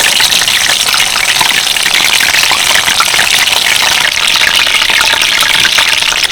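Water lily stems frying in hot oil over high heat, giving a loud, steady crackling sizzle with dense spitting pops that carries on without a break and with no voices over it.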